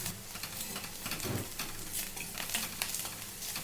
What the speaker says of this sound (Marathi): कांदा असंच आपण आता एक दोन मिनटं परतून घेतलेला आहे